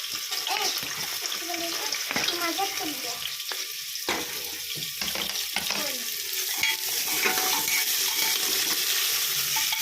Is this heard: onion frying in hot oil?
yes